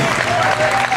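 A powerlifting meet audience claps after a junior lifter's national-record opening squat, a brief burst of steady applause under a commentator's voice.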